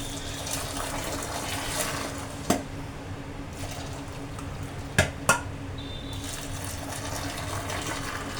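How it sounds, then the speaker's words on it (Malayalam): Tea pulled between steel vessels to froth it, a steady splashing pour with a few sharp metallic clinks as the containers touch, close and alone with no talk. "ചായ ഊറ്റിയിട്ട് നമുക്ക് ചായ ഒന്ന് അടിച്ചെടുക്കാം."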